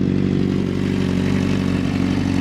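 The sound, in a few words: Honda CBR 600RR 2006 motorcycle engine running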